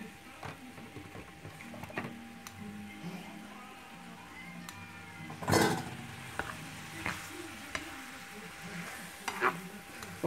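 Ackee and saltfish cooking in a pan, a steady soft sizzle with scattered stirring scrapes and utensil clicks, and one louder clatter near the middle, heard fairly close with no talking.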